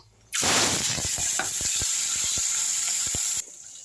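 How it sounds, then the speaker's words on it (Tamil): Onion, green chili and curry leaves dropped into hot oil, a loud sudden burst of sizzling that holds steady for about three seconds with crackling pops, then cuts off abruptly, with no voices. "இப்போ இந்த வெங்காயம் பச்சை மிளகா கருவேப்பிலை அது மூணுத்தையும் போட்டுப்போம்"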